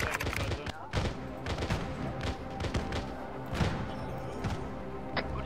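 Turret gunfire in the military shooter ArmA 3 rattles in dense, repeated bursts of sharp shots and thuds, with voices talking over the battle.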